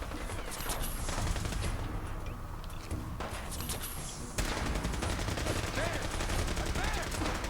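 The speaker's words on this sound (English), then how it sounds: "we've got the Brotherhood fighting some super mutants" Brotherhood of Steel laser weapons firing in a battle against super mutants in Fallout 4, a dense, continuous barrage of rapid shots and blasts with grenades going off, loud and unbroken from start to finish, with faint voices mixed in.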